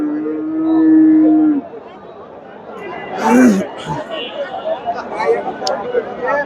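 Crossbred dairy cows low at the Bogura Dhap cattle market. One long near moo opens, and a shorter one follows midway amid crowd chatter and nearby talking.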